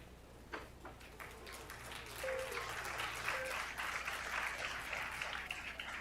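Spectators at a women's pool tournament in Las Vegas give a round of applause, moderate clapping rising and holding over the hall's background hum, with faint tones and a soft tap or two underneath.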